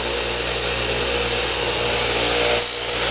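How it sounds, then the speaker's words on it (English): A radial arm saw grinding the teeth of a band saw blade, a loud, steady, continuous high-pitched whine with grinding noise that barely changes, the pitch dipping briefly near the end. "Okay, it's a nice little grind. We're just going to take a little more off."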